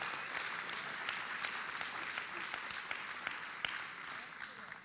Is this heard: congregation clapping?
yes